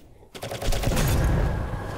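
A nail gun in the video game Drake Hollow fires a rapid burst of loud, sharp repeated shots after a brief quiet start, sustained for over a second.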